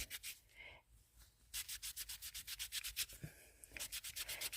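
A wet cloth rubbing paint off a reused craft item, heard as a quick rhythmic series of close, scratchy back-and-forth strokes, steady and alone with no talk.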